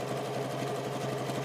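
Sewing machine stitching the sides of a bowl or basket, a steady, rapid mechanical whir with even pulsing, close and continuous, with no talk.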